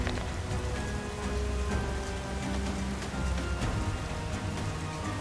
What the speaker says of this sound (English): It just started pouring all of a sudden.